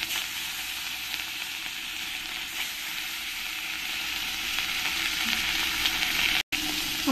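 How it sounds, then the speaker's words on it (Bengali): Rohu fish pieces fry in oil for a Bengali-style spicy fish curry, producing a continuous close sizzle with light stirring that holds steady throughout, broken only by one very brief dropout. "এবার এই পরের মাছগুলো আমি একই রকম করে ভেজে নেব।"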